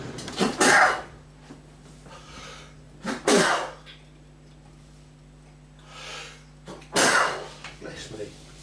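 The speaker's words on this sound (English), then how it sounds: "Oh, I'm going to sneeze." A man working on a fusee pocket watch repair sneezes repeatedly, with three or four bursts spread out and separated by quiet breaths, over a low steady hum.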